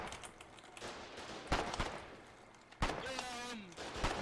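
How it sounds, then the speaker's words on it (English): Sharp gunshots and explosion bursts from the Foxhole war game, a couple of loud close cracks standing out over a busy, crackling battlefield din. "you're gonna hear a lot of explosions"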